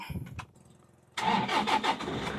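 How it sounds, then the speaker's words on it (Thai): A Toyota Hilux cab pickup with a D4D 16-valve turbo diesel engine cranks briefly, catches and starts, then revs up with a loud close rattling roar that surges in quick pulses. "อับแรกเปิดให้พี่น้องได้เบิ้งเลยครับผม ฟังเสียงเครื่องด้วยกันครับ"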